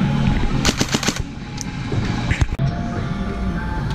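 An airsoft gun fires on full auto in rapid bursts, loud and close, with the rattling volleys clustered early and then a sharp single pop amid outdoor background noise.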